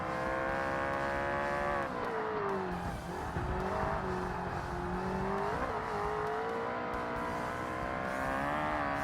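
Ferrari F40 in Forza Motorsport, carrying too much power round a track with a big carousel: a loud, sustained, high-revving engine whine whose pitch rises and falls through corners, with faint tyre scrub, steady for about nine seconds.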